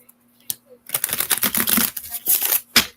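A deck of oracle cards is shuffled by hand in quick riffling bursts, a brief tap then a dense run of papery flicks and a final snap, with no talk over it.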